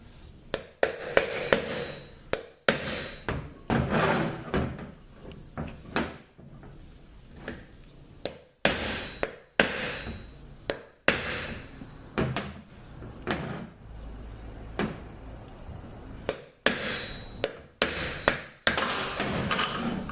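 Metal-on-metal hammer blows striking a socket to drive a part out of a ZF 6HP19A automatic transmission during teardown, a long series of sharp, loud irregular strikes with brief pauses, close by.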